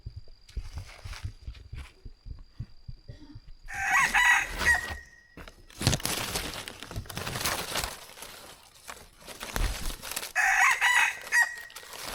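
A hunter's rooster carried along into the forest crows loudly twice, long cock-a-doodle-doo calls close by, with rustling, footsteps and scattered clucks in between.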